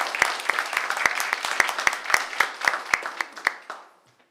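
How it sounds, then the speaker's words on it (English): Applause at a village council meeting for a fire lieutenant: scattered, sparse claps from a small group, spaced sharp hand strikes fading out toward the end, with no talk. "That needs another round of applause."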